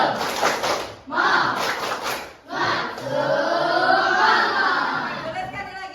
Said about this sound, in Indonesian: Oke, kita coba dulu tepuk semangat